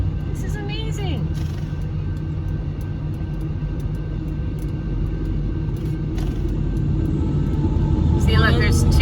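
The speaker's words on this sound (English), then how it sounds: "Leo, have you ever seen a train this long?" A long freight train rolls past a crossing in Niland, California, giving a continuous heavy low rumble with metallic squeals near the start and end. People talk over it.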